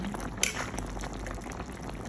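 Sinigang na salmon soup with lettuce bubbles at a steady rolling boil in a pot, a close, continuous gurgle with one brief louder splash near the start and no voices.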